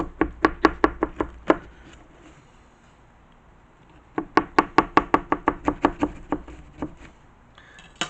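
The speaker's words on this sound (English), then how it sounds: "So now I'm going to cut myself a slice." A knife cuts a slice of vegan white asparagus and black truffle quiche, sounding as rapid crisp taps against the board in two bursts of about a dozen quick knocks each, close and clear with no talking.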